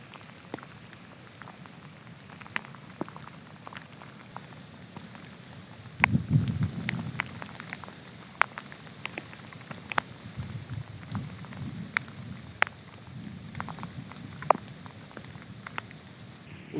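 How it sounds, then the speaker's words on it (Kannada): Heavy rain falls steadily during a flood in Uttara Kannada, with scattered sharp drop ticks and a denser, louder surge partway through. No one speaks. "ಇವಾಗ ಮಳೆ ಅಂತೂ ಕಡಿಮೆ ಆಗುವಂಥ ಒಂದು ಲಕ್ಷಣಗಳು ಕಾಣಿಸ್ತಾ ಇಲ್ಲ"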